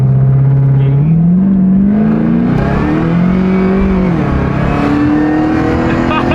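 A turbocharged 86 car accelerating hard, heard from inside as the engine climbs loudly through the revs with a pitch drop at a gear change before rising again, steady and close, with a voice briefly under it.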